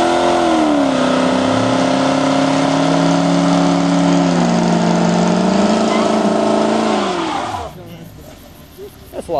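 Supercharged car, a Corvette or WS6, revving hard and accelerating off the line, its loud engine note climbing in pitch before dropping away, with voices talking over it.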